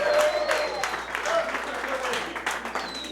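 A comedy club audience applauds and cheers, uneven bursts of clapping mixed with crowd voices and a few whoops, moderately close.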